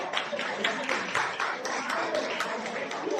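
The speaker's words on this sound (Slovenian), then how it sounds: "En aplavz." Applause at a New Year's Eve celebration in a home for elderly residents in Fužine, greeting the new director: steady, moderately dense hand clapping from a small crowd, sustained throughout with faint voices in the background.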